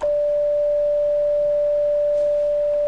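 Waldorf Blofeld synthesizer with a self-oscillating filter emits a steady pure sine tone, loud and unbroken for the whole stretch over a faint noise floor.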